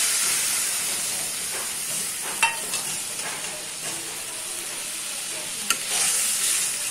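Dal and turmeric powder frying in a pan while being stirred: a continuous bright sizzle and hiss with two sharp scraping knocks from the spoon, no talking.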